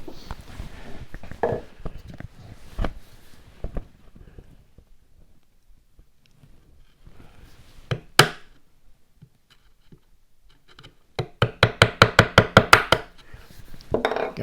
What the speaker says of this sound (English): So I'm gonna take a chisel. We'll just cut us a little notch out right there.